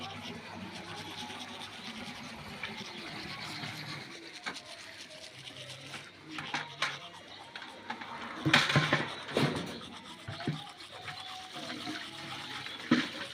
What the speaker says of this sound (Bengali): আমার দেবর জল ভরছে ওইখানটা।